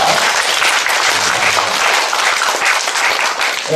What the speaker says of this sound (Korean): 우리 큰 박수 올려드리겠습니다